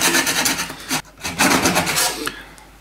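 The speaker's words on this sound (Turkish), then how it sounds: "Kürdanı bir testere yardımıyla da kesebiliriz." Small hand saw cutting through toothpicks in a furniture hinge repair, heard as close raspy back-and-forth strokes with a brief pause around the middle.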